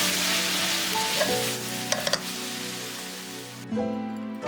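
Glass noodles tossed and stir-fried in a hot pan for cabbage japchae, a steady loud sizzle with a few brief scraping clicks and a shift in tone near the end.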